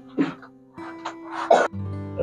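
A few short, harsh coughing bursts sound close by in a quiet indoor space, separated by brief pauses, with a low steady hum continuing underneath.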